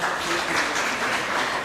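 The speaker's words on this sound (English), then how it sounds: "Big applause for them." Brief applause from an audience at an interior design investiture ceremony following a presentation, a dense, even patter of many hands clapping together for a second or two.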